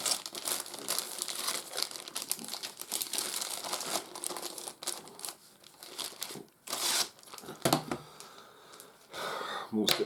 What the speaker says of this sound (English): Let's pop this card stock out.